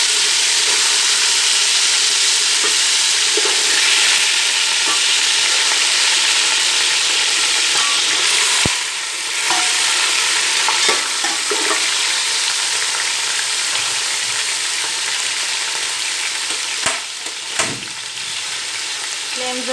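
Chicken pieces fry and get stirred in a pan of browned onion for chicken pulao, a steady, loud, close sizzle running throughout with occasional scraping stirs.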